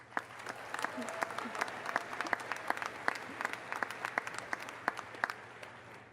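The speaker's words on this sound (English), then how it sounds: "let's give them another round of applause" Graduates and guests at a UW Parkside spring commencement applaud outstanding graduates, a steady wash of many hands clapping, heard from a distance with faint crowd murmur and sharper claps standing out.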